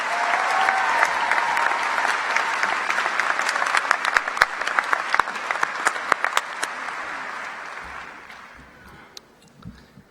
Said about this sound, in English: Let's welcome them with our applause.